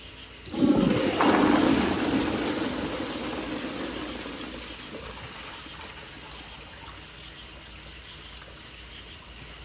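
A Kohler Kingston 1.6 gpf toilet flushes with toilet paper in the bowl: a sudden close rushing gush that swells, then slowly tapers into a long, softer trickle as the tank refills, with no talk.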